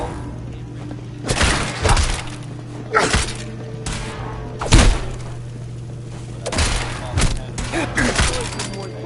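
A player's gun fires in a video game, several loud, booming shots in irregular bursts across the stretch, mixed with thuds and a voice talking.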